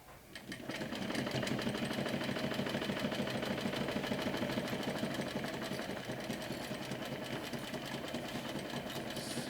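Sewing machine stitching around a fabric mini backpack, a fast, steady mechanical whir with rapid needle clatter running continuously at close range after a brief start.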